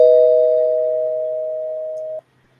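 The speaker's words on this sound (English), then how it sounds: "I'm totally going to ring the spoiler bell again" A spoiler bell sound effect rings as one sustained, steady electronic tone that slowly fades before cutting off abruptly, heard alone.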